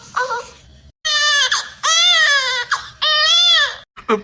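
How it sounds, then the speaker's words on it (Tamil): A baby cries loudly and close in several long wailing bursts with short gasping breaks between them, ending in a brief whimper. "பாப்பா அழுத."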